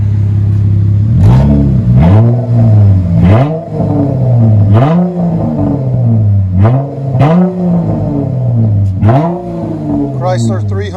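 A 2013 Chrysler 300 V6 with Flowmaster Super 10 dual exhaust, revved repeatedly in loud, close bursts that rise and fall about every second, with a deep exhaust rumble between them.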